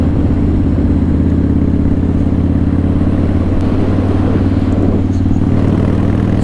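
Harley-Davidson CVO Pro Street Breakout motorcycle exhaust rumbling in a steady, loud, deep idle-like throb with a continuous low pulsing beat, close by and alone throughout.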